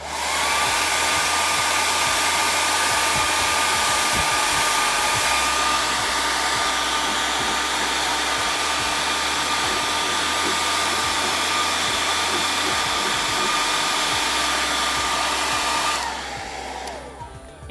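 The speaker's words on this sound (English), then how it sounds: "You do want to have your blow dryer on a high heat and let it get pretty warm." A blow dryer runs steadily on high heat for about sixteen seconds while melting candle wax during home candle making, a loud continuous whooshing roar with a faint whine, then it switches off and winds down.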